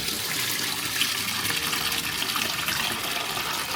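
Water pouring steadily into a bowl of soaking beans for moi moi, a continuous splashing fill of even loudness, close by, with no talk.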